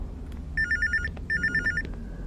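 A telephone bell rings in two quick trilling bursts, each a rapid run of bright pulses, with a short pause between them over a low, steady room rumble.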